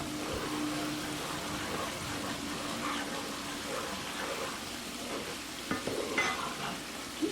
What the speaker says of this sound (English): You just kind of want to saute your onions a little bit.